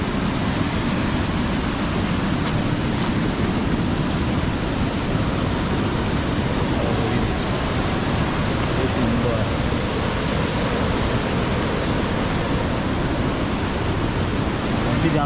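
A small, shallow village river in Ratnagiri rushes steadily and loudly as broadband water noise, close by and unbroken, with some talk faintly mixed in.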